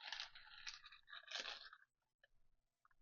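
Hand-cooked sea-salted crisps are crushed and scattered over the top of a tuna pasta bake, giving a quiet burst of dry crunching that fades into a few small crackles.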